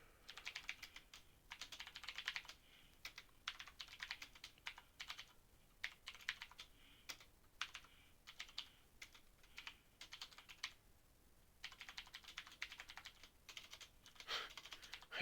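Someone types on a computer keyboard, entering Azure CLI commands in Bash. Soft, quiet key clicks come in irregular bursts with short gaps, and no one speaks.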